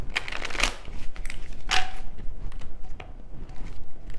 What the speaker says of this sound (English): One more deck to shuffle.